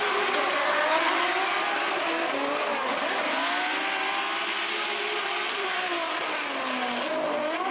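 Drift car during a qualifying run at the FIA Intercontinental Drifting Cup in Riga, engine note rising and falling through sustained revving with tire squeal and skidding, heard from a moderate distance and continuous throughout.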